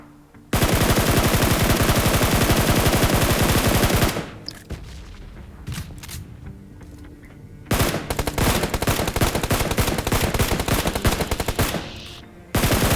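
Sustained automatic weapon fire in BGMI, the mobile battle royale game, near a church in Pochinki, comes as long loud bursts with a short lull between them and a final burst at the end.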